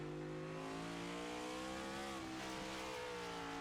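Race car running on a track during a racing series event, engine droning steadily off-throttle with slowly shifting pitch, faint and distant under broad noise.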